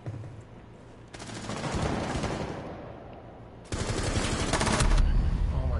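Sustained automatic gunfire from a Rainbow Six Siege match, with a long rapid burst followed by a brief lull and then a second loud, dense burst, all close and intense.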